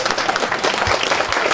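Guests at a Hungarian wedding ceremony applaud right after the couple are declared married, a dense burst of many hands clapping close by, loud and continuous throughout.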